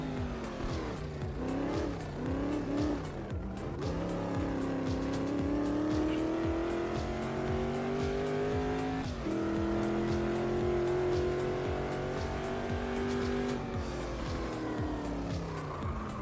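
Race cars in the iRacing sim pulling away at a race start, a loud continuous engine drone with rising and shifting revs as the pack accelerates, tires faintly squealing.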